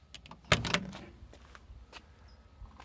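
A sharp mechanical click and clunk of a 1956 Continental Mark II car door being popped open with a door popper, followed by a few faint thuds and quiet rustling.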